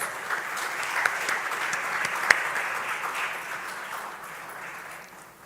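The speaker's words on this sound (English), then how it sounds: "Please give her a round of applause." Steady applause from an audience at a formal programme launch event, moderately distant and even, with a few sharper claps standing out before it tapers off toward the end.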